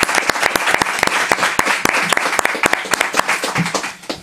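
An audience gives a warm round of applause for Javi, a bookseller, at an author's visit in Abarán: dense, continuous clapping that tapers off at the end.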